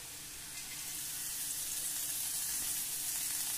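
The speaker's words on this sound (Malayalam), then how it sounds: "ഇനി ഇതിലേക്ക് ഈ കാബേജ് ഇട്ട് കൊടുക്കാം" Cabbage sizzles as it goes into a pan of sautéing sliced onions, a steady close frying hiss that swells slightly after the first half-second and then holds constant.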